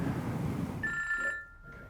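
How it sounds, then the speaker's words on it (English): A telephone rings indoors: after a stretch of muffled background noise, a single clear electronic ring tone sounds for about half a second, then fades with faint residue. "I'm going to phone Abby."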